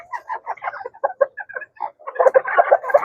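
A hen that has been laying eggs clucks close by in a rapid, uneven series of short calls. The calls pause briefly and then resume more busily toward the end.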